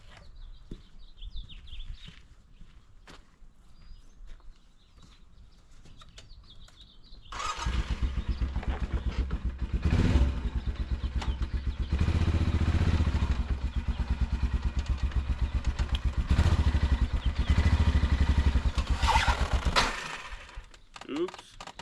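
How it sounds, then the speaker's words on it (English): A quad ATV's engine starts after several seconds of quiet small clatter, then runs loud and steady with rising surges as it drives up onto a John Deere AMT-600 mower tire to break the bead, before cutting off near the end. "grab a board, probably this one right here, and drive up this tire with my quad"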